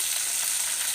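Garlic paste frying in a pan, a steady bright hiss of close sizzling with no break.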